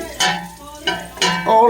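Pancetta frying in a pan while someone stirs, giving bursts of close sizzling and scraping that rise and fall in short waves, with faint kitchen clatter and no talk.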